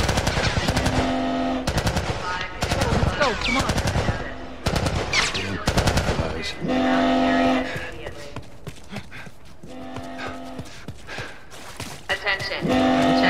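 Rapid machine-gun fire in The Last of Us, loud repeated bursts broken by short pauses and mixed with game sounds and a voice.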